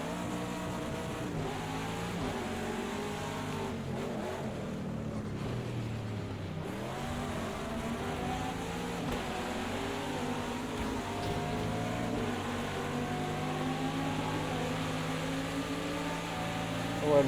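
An IMSA GTD Pro race car runs on wet tires on a wet Indianapolis track, its engine droning steadily and loudly throughout with shifting pitch and no pauses.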